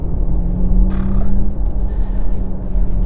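A Porsche Taycan 4S in Sport Plus mode climbs a hill, giving a steady low rumble with a faint electric whine and road noise heard from inside the cabin, with no talking.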